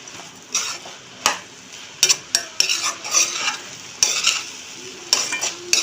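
Repeated scraping and stirring of tamarind and horse gram in a pan over a soft sizzle, with sharp metallic clinks of a utensil against the pan every second or so.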